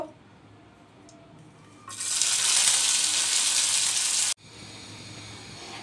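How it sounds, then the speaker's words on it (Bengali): Almonds and pistachios fry in hot ghee in a pan: a loud, bright sizzle bursts in abruptly and holds steady for about two and a half seconds, then cuts to a softer background crackle. "এগুলো আমি ঘিয়ের মধ্যে একটু ভেজে নিব।"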